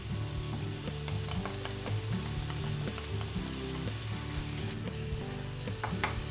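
Chickpeas and tomato sizzle together in a pan, a steady close frying hiss with scattered small pops and crackles, no voices.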